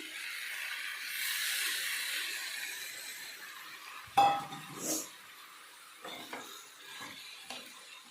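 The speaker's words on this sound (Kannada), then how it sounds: "ನೆಕ್ಸ್ಟ್ ನಾನಿಲ್ಲಿ ಕುದಿಸಿ ಇಟ್ಕೊಂಡಿರೋದು ಹೆಸರು ಕಾಳು ಹಾಕತ್ತೀನಿ" Boiled green gram (moong) tipped into a hot pan and stirred, starting with a sharp clink and a short sizzle, then scattered scraping and knocking of the spoon against the pan, faint and close, with no one talking.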